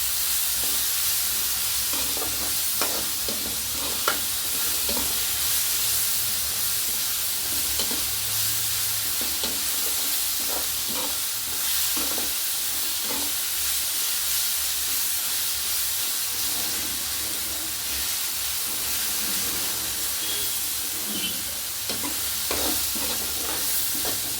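Vegetables and onion with crushed pepper fry in a pan under a loud, continuous hissing sizzle, with intermittent spatula scrapes and taps over the whole stretch and no talking.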